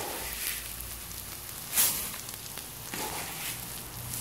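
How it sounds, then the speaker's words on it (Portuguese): Homemade garlic seasoning fries in a pan as the first step of cooking rice, giving a soft steady sizzle with a few brief clatters from stirring. "eu tô fritando para fazer o arroz"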